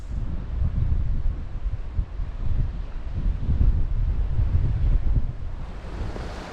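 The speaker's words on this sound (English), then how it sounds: "It's a really windy night." Strong coastal wind of about 25 miles per hour buffets the microphone at night, gusting in heavy, uneven rumbles alongside the wash of surf, with no voices.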